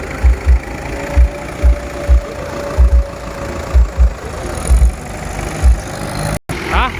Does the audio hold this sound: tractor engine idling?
yes